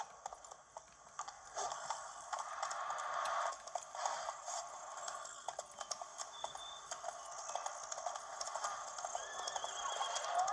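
Hooves of Roach, a horse in The Witcher 3 on Nintendo Switch, clip-clop steadily at a gallop across ten seconds, joined by a whinny and snorts, moderately loud with no talking.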